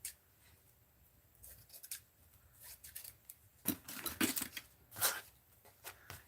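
Scissors snip paper for an art journal in a series of crisp, irregular cuts, some quick and some drawn out. They grow louder and denser toward the end against a quiet background.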